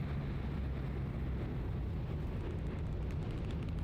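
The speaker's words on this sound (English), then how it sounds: "Here comes a napalm strike." A napalm bombing run in the Vietnam war game Hell Let Loose: Vietnam, heard as a continuous heavy low roar and rumble of fire and blasts, loud and steady throughout.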